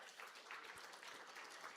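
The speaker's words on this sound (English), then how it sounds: "claps." An audience at a tech plenary applauds, a soft steady patter of many hands clapping heard from a distance at low volume.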